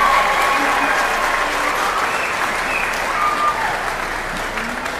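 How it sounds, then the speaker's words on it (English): Audience at a youth string orchestra concert applauding, a steady full wash of clapping from many hands lasting several seconds and tapering slightly at the end. "So if we could give Taylor a round of applause."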